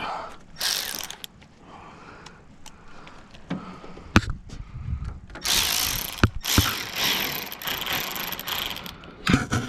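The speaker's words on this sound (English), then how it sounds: "Actually, I got my ratchet." A ratchet wrench being turned in bursts, giving loud close clicking runs that start and stop irregularly, with the busiest stretch of rapid clicks toward the end.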